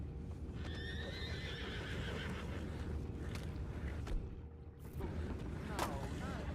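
A horse in Red Dead Redemption 2 whinnies with a rising, wavering call near the start, over steady background ambience with clopping hooves and another brief neigh later.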